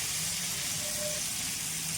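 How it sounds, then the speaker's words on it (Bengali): Chopped raw green mango frying in a pan for a tangy tengra fish curry gives a steady, soft sizzle, close by and fairly quiet, with faint watery hiss and no talking. "কেটে রাখা কাঁচা আম, এগুলো 2 মিনিট ভেজে নিই"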